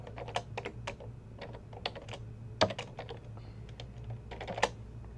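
Computer keyboard typing in quick irregular bursts as a login token is entered, close and clear over a steady low background hum.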